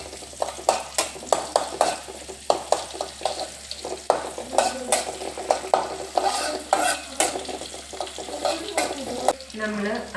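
Ginger and garlic sautéing in a pan, with repeated sharp scraping strokes of a spoon stirring over a steady close sizzle, the stirs coming in quick irregular bursts throughout.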